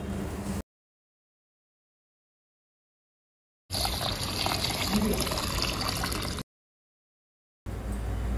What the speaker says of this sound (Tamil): நல்லா ஒரு 3-4 தடவை நல்லா வாஷ் பண்ணிக்கோங்க.